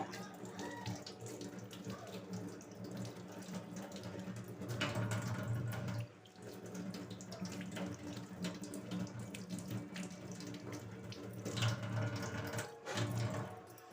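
Running tap water pours steadily into a sink while cut raw mangoes are washed beneath it, a continuous splashing stream with brief shifts as the fruit is handled.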